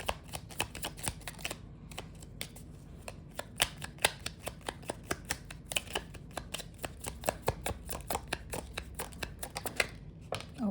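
Tarot cards shuffled by hand for a reading, a rapid, steady run of crisp riffling snaps and flutters close to the mic, continuing for several seconds without talk.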